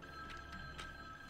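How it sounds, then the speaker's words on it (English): An old-style telephone bell rings in a scary video game, short repeated trills sounding faintly over a steady electronic hum and dark ambience. "we need to answer the phone, don't we?"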